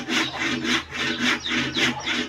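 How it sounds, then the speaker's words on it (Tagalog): A sharp hand saw works through a piece of wood in about six steady, evenly spaced strokes, each a close, raspy scrape, with faint birdsong in the background and no talking. "Ang talas ng lagari mo."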